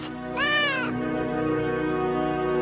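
A cat meows once with a rising, drawn-out cry near the start, over a steady low hum and music-like background.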